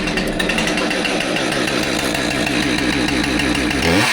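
A Stihl 550 two-stroke chainsaw engine running on a workbench, a loud, close, steady buzzing drone with rapid pulsing firing and a slight rise in revs at the end.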